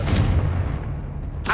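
Confringo fire spell blast in the Hogwarts Legacy video game: a loud, booming burst with a deep rumble that slowly fades over about a second, then a sharp fresh burst right at the end.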